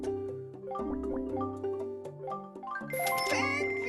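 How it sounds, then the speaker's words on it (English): A mobile phone notification tone plays during a game session, a short run of bright chiming melodic notes that rises into a higher tinkling flourish at the end. "My phone just rang. I don't have it on silent."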